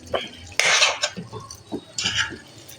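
Keema and peas mixture stirred in a pan over a lowered flame: spoon scrapes and clinks of metal on cookware come in bursts, loud and close, with no talk.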